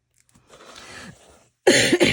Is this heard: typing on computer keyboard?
no